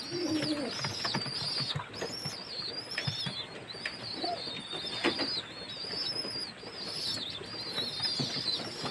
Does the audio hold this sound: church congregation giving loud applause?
no